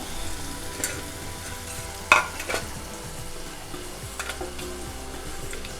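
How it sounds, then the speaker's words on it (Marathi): Spices sizzle and crackle in hot oil, with a few sharp stirring clinks against the pan near the middle. "फोडणी चांगली लागली"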